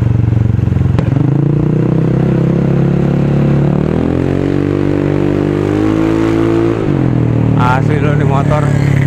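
A modified 2015 Yamaha X Ride automatic scooter set up for trail riding drones steadily while being ridden, its engine pitch shifting as speed changes, with a rider talking over the loud, close, wind-buffeted engine noise.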